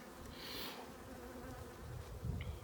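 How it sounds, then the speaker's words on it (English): Honey bees buzzing over a hive frame lifted from the box, a steady close hum with a brighter swell early on and small rustles underneath, no voices. "Oh, they're just happy bees."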